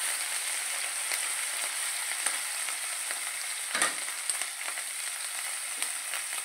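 Cumin, ginger paste and turmeric fry in hot oil for spinach dal, a continuous soft sizzle with a few faint scrapes of stirring and one brief louder hiss, no voices.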